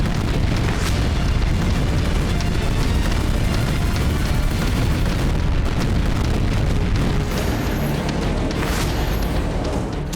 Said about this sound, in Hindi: चंद सेकंड में कई जगह धमाके, रात के अंधेरे में बारूदी धमाकों से निकलती आग